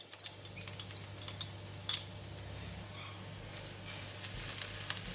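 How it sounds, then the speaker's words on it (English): Garlic frying in hot cooking oil in a pan, a faint steady sizzle with scattered light clicks and taps of utensils, no one speaking. "I'm going to fry the garlic until it becomes golden brown and nice fragrant"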